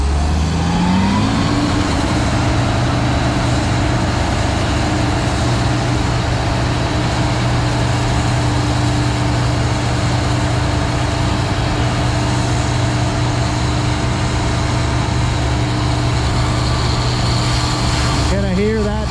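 A farm combine harvester runs as it begins cutting, with a loud, steady engine drone close by that rises briefly at the start and holds constant to the end.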